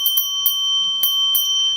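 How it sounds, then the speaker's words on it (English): A hand bell rung at a live snack sale, struck in several sharp, bright strokes in an uneven rhythm, each ring sustaining a steady high metallic tone between strikes. "I forgot to ring the bell and actually sell stuff."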